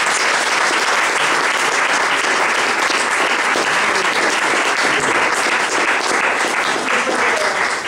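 Audience applause fills a conference hall at an animal-welfare convention about cats in Ancona, a dense, loud, continuous clapping that holds steady throughout with no break.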